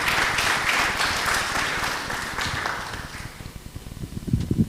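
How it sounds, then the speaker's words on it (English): A conference audience gives a round of applause, dense clapping that starts full and loud, then thins out and fades to scattered claps near the end. "Another round of applause for Mike."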